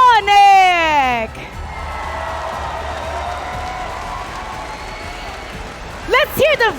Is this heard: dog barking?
no